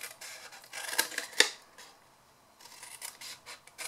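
Scissors cut along the points of a paper box shape, a quick run of close crisp snips and rasping strokes, a short pause, then another burst of cutting.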